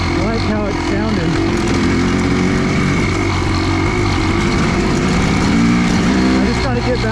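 Kawasaki KX500 two-stroke dirt bike engine on a mountain trail, running loud and close with a rough, uneven, misfiring drone, while someone talks over it.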